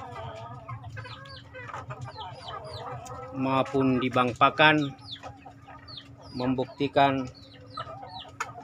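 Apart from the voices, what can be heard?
chickens clucking while foraging freely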